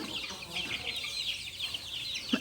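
Young chickens on a farm chirp and cluck in a steady, busy chatter at close range, with no one talking.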